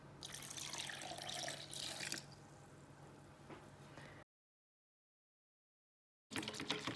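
Milk poured into a quiche mixture in a kitchen bowl, a steady liquid splash and trickle for about four seconds, then silence, then the pour resumes briefly.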